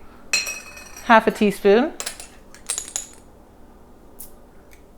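Coriander seeds and chili flakes tipped into a mortar and pestle, giving bright clinking rattles and small hard taps against the bowl, interspersed with a person talking nearby.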